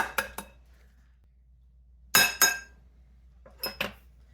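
Two eggs cracked into a pie plate for breading catfish, heard as three short clusters of sharp clinks and taps against the dish, close and clear in an otherwise quiet kitchen.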